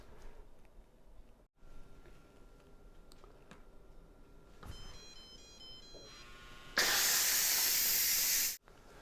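Pampered Chef Multi Cooker cooking beef stew gives a few electronic beeps, then a loud steady hiss of steam venting for about two seconds before cutting off abruptly in a quiet kitchen.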